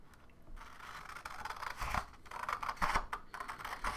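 Scissors cut through paper while shaping a folded paper sculpture, giving a run of crisp, close snips and scrapes that come in short uneven bursts over about four seconds.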